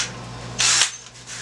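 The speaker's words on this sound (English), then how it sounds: "I'll use my drill to put a hole in the pipe" A power drill bores a hole in a pipe during DIY UV filter construction, giving one short, loud whine that cuts off after about a quarter second, with no talking.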